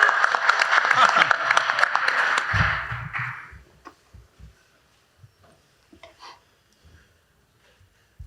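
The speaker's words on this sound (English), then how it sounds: "Give him a warm welcome of applause, Mr. Peter Goldsborough." Audience applause for a speaker's introduction at a defense and AI conference panel, a dense burst of clapping for about three seconds that fades out, followed by scattered taps and small noises.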